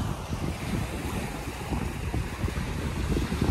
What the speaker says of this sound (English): Now I'm walking at the beach a little bit, but it's so windy